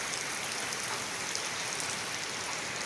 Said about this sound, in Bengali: আসলে এই টিনের চালে বৃষ্টি পড়ার শব্দগুলো একটা অদ্ভুত সুন্দর লাগে